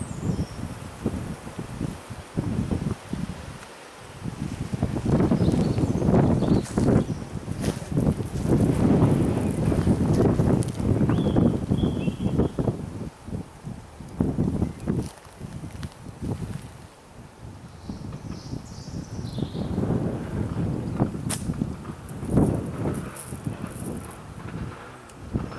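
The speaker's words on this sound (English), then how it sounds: "Quite windy today." Strong outdoor wind buffets the microphone in a steady roar with gusty swells, rustling and low rumble throughout, easing briefly near the start and again midway, with no talk.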